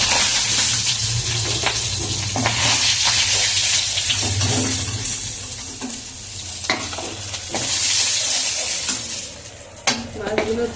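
Sankar fish fry in hot oil, a constant close sizzle and bubbling broken by clatters and scrapes of the utensil turning the pieces, with no talk.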